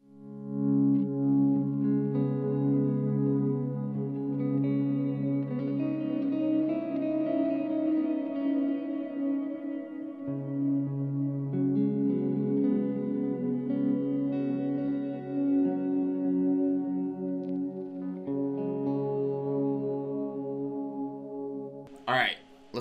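A Source Audio Collider delay and reverb pedal on its Floating on a Cloud preset turns guitar chords into sustained, shimmering, spacey washes with long echoing tails, held steadily for about twenty seconds before a final sharp note.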